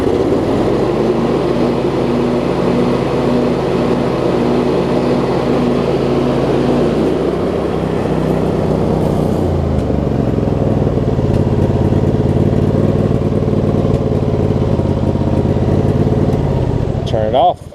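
John Deere LX279 lawn tractor engine running steadily after a valve adjustment, a loud, close, continuous droning hum that shifts pitch partway through as it throttles up with the blades.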